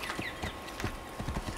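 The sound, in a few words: horse in the video game Assassin's Creed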